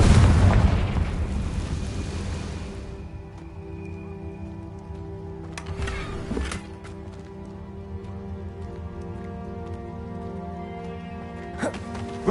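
Confringo blasting spell in Hogwarts Legacy bursts in a loud, broad explosive boom at the start, then decays into crackling debris and a lingering rumbling ambience with a few smaller impacts later.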